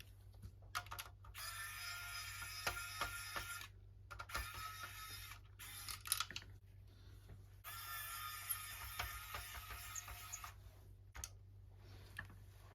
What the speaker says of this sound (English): From here we can remove the 2 screws that secure the power switch and fan assembly